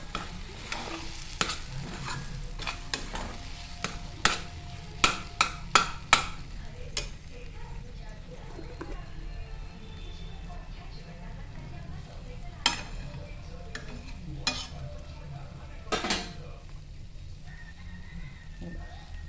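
A utensil stirs and scrapes a steamed sweet mixture in a pan, giving irregular clacks and taps over a soft continuous frying hiss, with occasional louder knocks against the pan.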